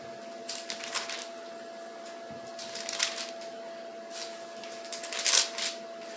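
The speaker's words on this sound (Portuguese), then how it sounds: "Deixe-me folhear a Bíblia aqui e encontrar" Pages of a Bible are flipped in several soft, papery rustles and flicks, close and quiet over a faint steady hum, with no talking.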